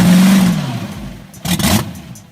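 An old drag racing car engine revs close by: a loud tone that drops away, then a sharp blip of throttle and a second rough rising rev.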